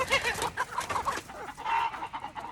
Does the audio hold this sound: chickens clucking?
yes